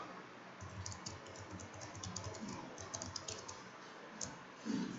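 Fingers type a username and password on a computer keyboard during software setup, producing a quiet, steady patter of key clicks with a slightly louder thump near the end, with no voices.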